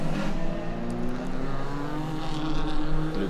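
Racing cars from an ICCR 2024 round, including a Celica, head out of the pit lane, several engines droning and revving together in a loud continuous blend without talk.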